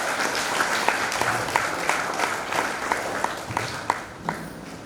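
Applause from a gathering at a felicitation ceremony for a nun in her home village; a few seconds of scattered, fairly close clapping with distinct individual claps standing out, tapering slightly toward the end.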